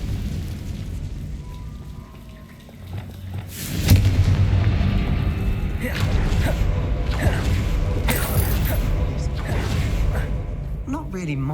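Explosion spells cast in a fantasy video game, with a heavy booming blast followed by rumbling, crackling bursts and repeated impacts, loud and sustained over a dense game soundscape.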